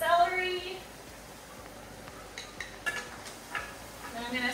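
A utensil stirs onions, carrots and celery in a pot, giving faint scrapes and light clinks against the metal. A person talks over the stirring throughout.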